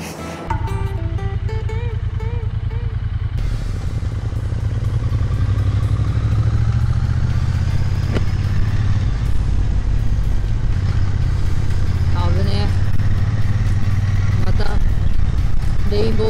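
A Triumph motorcycle is ridden through Odaiba in Tokyo, its engine and wind rushing past in a loud, continuous roar throughout.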